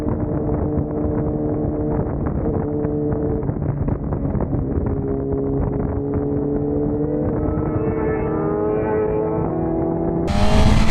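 A 2023 BMW S1000RR races a 1,000cc bike, its engine droning loud and constant under strong wind rush, with a rising pitch as it accelerates before a sharp burst of wind noise at the end.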